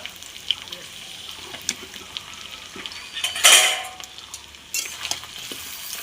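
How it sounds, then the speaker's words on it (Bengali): Catla fish head frying in a pan with onion, salt and turmeric, a steady soft sizzle with clinks of a spatula against the pan and a louder scraping stir midway. "দেখুন পেঁয়াজ মাছের মাথা লবণ হলুদ দিয়ে খুব সুন্দর করে আমি ভেজে নিচ্ছি।"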